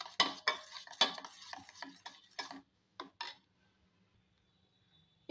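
Beaten sour yogurt, about two teaspoons, stirred into a mixture for steamed taro stolons with prawns: a quick run of rhythmic scraping strokes for about three seconds, then near silence.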